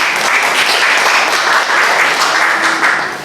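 A classroom of students applauding two classmates after a presentation on making serabi, a steady, dense clapping that stays loud and fairly close throughout the short burst.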